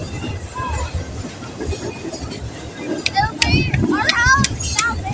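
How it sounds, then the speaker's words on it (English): A large train passes close by on a family walk, its rumble and rail squeal running under children's excited talk. "That's the closest we've ever been to a train."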